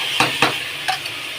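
A spatula stirs soaked basmati rice into oil-sautéed vegetables for veg pulao, giving three or four quick scraping strokes against the pan over a low sizzle, close and alone.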